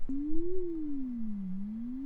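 A single steady triangle-wave synthesizer tone, smooth and buzzy, gliding slightly up and then down in pitch, fairly quiet and alone.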